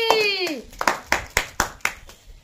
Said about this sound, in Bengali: আবার সে জোরে একটা হাততালি